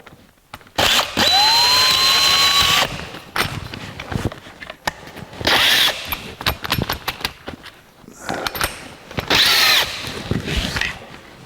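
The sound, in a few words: power drill drilling a hole in steel plate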